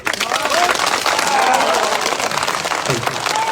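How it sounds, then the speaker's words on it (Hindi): A crowd at a political rally for the J&K National Panthers Party foundation day claps loudly and steadily, a dense continuous roar of applause with faint voices mixed in. "ताली बजाओ जोर से।"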